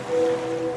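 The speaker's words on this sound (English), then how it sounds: "now you're drifting asleep to the scent and sound of waves" Gentle ocean waves used as a sound effect in a laundry detergent ad, a soft steady wash of surf with a faint low tone underneath, brief and close.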